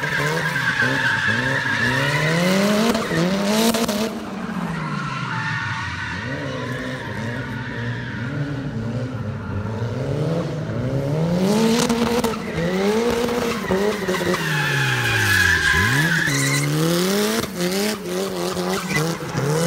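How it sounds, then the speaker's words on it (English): A lowered turbocharged Mazda Miata drifting, tires squealing in long wavering screeches over a revving engine, loud and continuous with pitch swooping up and down. "The owner of the car actually does drift this car."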